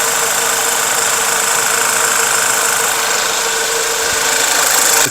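A Volkswagen Tiguan engine idles roughly while fuel is being bled through, a loud, close, steady mechanical drone with an uneven knocking texture and no speech over it.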